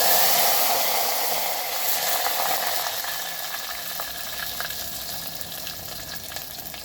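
Curry leaves and dried chillies sizzle and crackle in hot tempering oil for a cucumber dal, a steady close frying hiss that slowly fades, with no voices.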